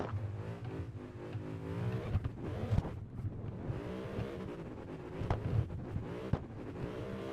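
A tuned car on a test drive in a racing video game, its engine droning and revving up and down with shifting pitch, steady and close throughout with no talking.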